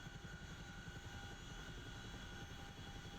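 A Chinook helicopter in DCS World flies with a constant dense rotor and engine drone, a steady unbroken whir with a thin high whine, heard alone.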